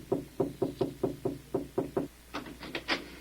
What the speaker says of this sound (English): Maybe I better knock again.